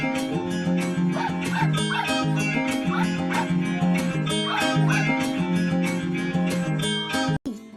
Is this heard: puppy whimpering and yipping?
yes